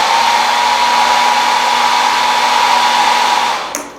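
A hair dryer blows air in a steady, loud, close whir with a constant hum for several seconds, then cuts out abruptly near the end with a small click.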